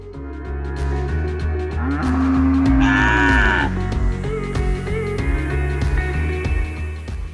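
Cattle at a huge feedlot, Five Rivers Cattle Feeding, low repeatedly: several overlapping moos, one long loud bellow in the middle, with other animals calling nearby and farther off.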